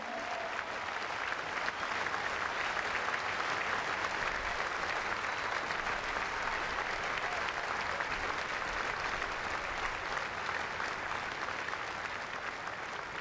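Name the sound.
audience applause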